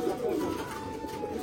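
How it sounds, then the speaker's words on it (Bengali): Domestic pigeons kept in a loft, among several birds being brought out of cages, give low soft cooing that continues steadily throughout, fairly close and moderately loud. "এখানে কিন্তু অনেকগুলো কাকজি পায়রা দেখতে পাচ্ছ"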